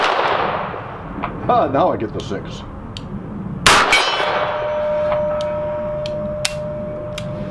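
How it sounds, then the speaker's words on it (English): A Smith & Wesson 627 V-Comp .357 revolver fires a sharp, loud shot, and a steel gong target rings back with a clang that fades slowly. Someone talks briefly before the shot. "Let's go back to the gong."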